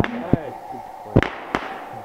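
A small New Year's Eve fireworks display with a lance piece, heard as several sharp pops and bangs at a distance spaced over two seconds, with a faint murmur of voices in between.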